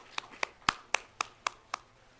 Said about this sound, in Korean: 격려의 박수 해드리기 바랍니다